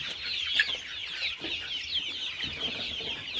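Free-range village hens perched on bamboo roosts in a country poultry shed, giving soft continuous clucking and murmuring calls, a few birds close with others blending behind.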